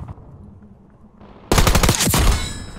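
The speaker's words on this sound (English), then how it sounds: "This AIMS 85 is such a good weapon, man. It is a good AR." Rapid bursts of AMES 85 assault rifle fire in Black Ops 6 multiplayer, loud and close after a quiet lull, a tight string of sharp shots ending in a short tail.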